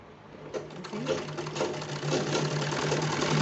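Sewing machine stitching a small child's kurta with a straight seam, a steady close whir that builds slightly, with faint talk underneath.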